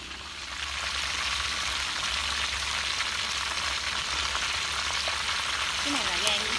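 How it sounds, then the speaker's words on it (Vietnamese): Offal, liver and heart, fries in hot oil, giving a loud, continuous close sizzle and crackle that holds steady throughout, with faint stirring at the end and no talking. "giờ mình sẽ chiên luôn bộ đồ lòng của nó nha mấy bạn."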